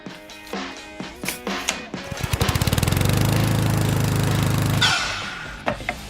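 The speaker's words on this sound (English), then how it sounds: "Over here at the miter saw, we're going to cut this down" A miter saw cuts a plywood board at a 22.25-degree angle, the loud motor spinning up with a rapid pulsing buzz, then a sustained whining cut for about two seconds before winding down, with knocks around it.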